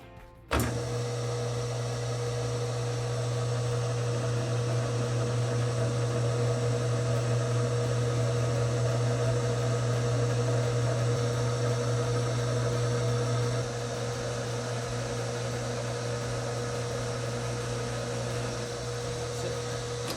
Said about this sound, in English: So I'm going to start knurling right about there.